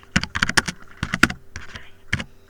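Typing on a computer keyboard while entering text, heard as irregular bursts of close, crisp key clicks with short pauses between groups.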